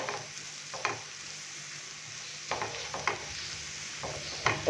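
Stir-fried vegetables seasoned with salt and black pepper sizzle softly in a pan, turned with intermittent scraping spoon strokes, close and quiet with no voices.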